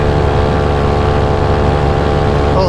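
An RC model Piper airplane engine in flight, a loud, steady buzzing drone held close throughout with no breaks.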